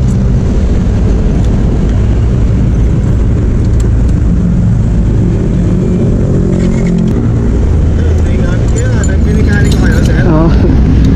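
A motorcycle engine idles loud and close with a steady rumble during a roadside repair, while people talk over it throughout.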